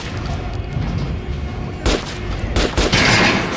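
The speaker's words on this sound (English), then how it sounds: "Try shooting for the center of the regular dummy's chest." A few sharp gunshots fired at a target dummy on a shooting range in Metro: Last Light Redux, two loud bursts standing out over a steady hum of game ambience.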